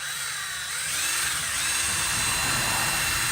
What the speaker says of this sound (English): If you want it to spin slower, hold the drill at more of an angle, or more 90 degrees to the wheel.